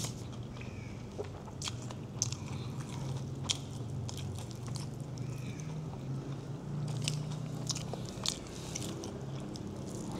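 Close, steady chewing and crunching of nasi ganja, a Malaysian rice dish with lauk, mouthfuls bitten repeatedly over a constant low background hum with no talk.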